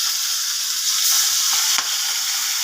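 Shrimp, soaked beforehand in salt, turmeric and tamarind, fry in hot oil with a steady, loud, bright sizzle, and a couple of brief crackles rise above it.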